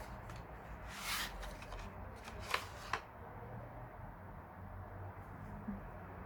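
Packaging of a room fragrance is torn and opened: a few quiet crinkles and sharp rustles near the start, then a faint, near-silent pause.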